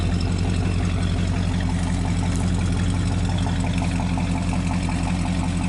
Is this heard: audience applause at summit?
no